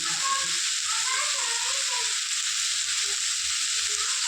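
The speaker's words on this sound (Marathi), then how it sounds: "आणि जे कारले आपले ते याच्यात सोडून द्यायचं. कसं उडतं" Bitter gourd sizzles steadily in hot oil, a loud continuous frying hiss with faint crackles throughout.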